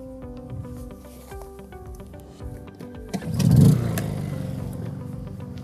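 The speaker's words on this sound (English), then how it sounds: "So let's start it up and see how it performs." A Honda EU22i inverter generator being started, with a rising burst of engine noise around the midpoint that settles into a steady running hum, nearby and moderately loud.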